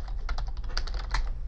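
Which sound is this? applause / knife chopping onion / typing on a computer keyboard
typing on a computer keyboard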